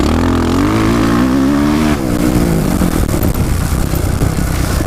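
A dirt bike at full throttle on the Glen Helen Raceway motocross track, its engine loud and close, revving hard and rising in pitch before settling into a steady roar.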